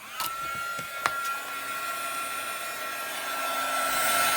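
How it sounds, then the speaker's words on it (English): A heat gun blows with a steady high-pitched whirring hiss, with a couple of faint clicks early on, close and continuous throughout. "I'm going to hit this with the heat gun"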